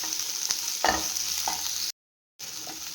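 Garlic, ginger, green chili and tomato sautéing in a pan while being stirred, a soft steady sizzle with a few scraping stir strokes, briefly cut to silence before the frying resumes.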